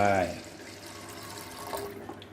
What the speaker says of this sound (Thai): ใส่น้ำลงไป